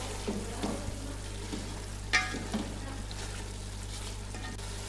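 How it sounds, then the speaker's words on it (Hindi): Chicken pieces frying in oil in a pot for biryani, a soft continuous sizzle broken by a few scraping stirs of a spoon, quiet, over a steady low hum, with no talk. "चिकन हमारी गल चुकी है तो हम इसे अब खोल कर ही थोड़ा सा भून लेंगे"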